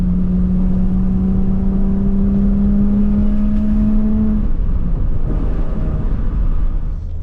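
A 1983 BMW E30 323i inline-six running close by, a loud steady engine drone with a held tone that rises slightly before easing off, with no talk over it.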